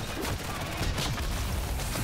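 Rapid gunfire from Modern Warfare 3 Zombies, a dense continuous barrage of shots and impacts that fills the whole moment with no pause.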